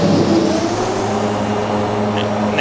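Twin turboprop engines of a Flysimware MU-2B-60 in a flight simulator come off the start locks, giving a steady, loud mechanical drone with a low hum and a brief higher whine near the end.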